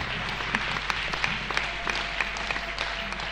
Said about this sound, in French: Clap properly.